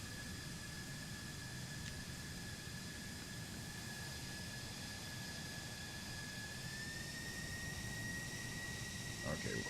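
A jet aircraft in Microsoft Flight Simulator spools up for takeoff on runway 25, a steady, faint engine roar with a thin high whine that climbs slightly in pitch toward the end.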